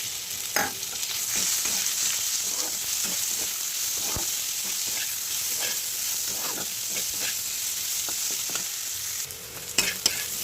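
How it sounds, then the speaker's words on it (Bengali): Chopped onions and potatoes fry together in a wok, giving a steady bright sizzle with repeated spatula stirs and scrapes, close and loud, with a few clanks near the end. "পেঁয়াজগুলো ভালো করে ভাজা হয়ে গেলে দিয়ে দেবো আদা রসুন ও লঙ্কা বাটা এক চামচ"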